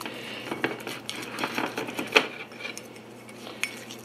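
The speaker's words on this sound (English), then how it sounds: "Okay, so I'm going to mix it up." Date syrup and chili flake sauce mixed in a dish, with a spoon clinking and scraping against the sides in irregular taps, one sharper knock midway. No talking.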